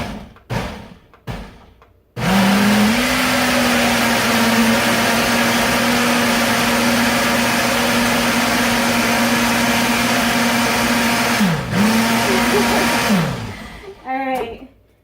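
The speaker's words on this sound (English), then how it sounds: "and then I just put it in the blender" A blender pulses smoothie ingredients in a loud, sustained whir that cuts off for a moment and then restarts, with a few clunks and short bursts of voice around it.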